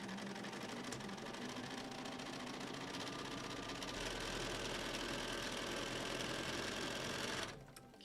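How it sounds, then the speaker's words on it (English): Sewing machine stitching together baby quilt blocks with a quarter-inch foot, a steady close mechanical whir with fast needle clatter that runs continuously and stops at the end, no talk. "I will sew along here and along here to get them secured so they don't slip and slide all over"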